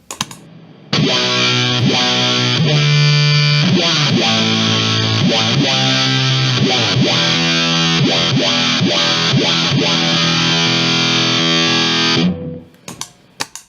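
Thick, distorted bass synth notes from a Digitech Bass Synth Wah pedal with a sweeping wah filter, played loud in a steady riff, then cutting off near the end with a few short blips.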